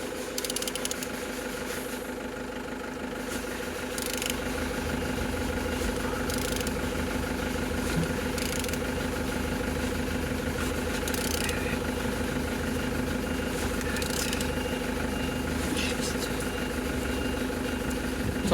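A BMW M57D30 (306D1) diesel engine turns over and settles into a steady idle, a continuous close mechanical drone with rhythmic knocking and a few brief sharper bursts on top, running without pause.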